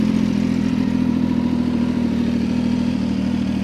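A sport motorcycle's engine runs at a steady, close rumble that holds an even pitch for a few seconds, with no one speaking.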